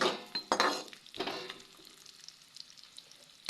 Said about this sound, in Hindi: काजू और बादाम भी मिक्स हो रखे हैं तो कोई बात नहीं, इनको भी साथ में भून लेंगे।